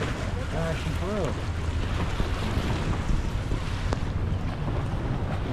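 Waves crashing on the Hudson River shore near New York Harbor, a continuous rough wash of water and wind buffeting, with a brief voice-like tonal sound early on.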